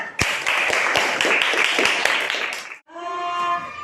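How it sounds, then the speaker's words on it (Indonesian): A burst of clapping from a class group, about two and a half seconds of dense hand claps for a presenting group, cut off abruptly and followed by a brief tonal sound. "kita beri tepuk tangan untuk kelompok keempat"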